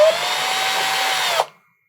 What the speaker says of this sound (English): going to town on my feet with a drill feels good as hell